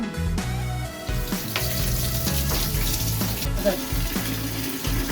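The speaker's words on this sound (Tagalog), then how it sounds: "Lagyan mo tubig." Steady rush of running water from a tap, continuous and fairly close, with a low rhythmic background and faint voices around it.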